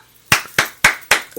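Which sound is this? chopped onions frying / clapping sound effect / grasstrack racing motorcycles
clapping sound effect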